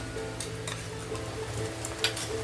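Ginger-garlic paste fries with lightly browned onions for mutton curry, a continuous low sizzle with a few faint scrapes and taps of a stirring spoon.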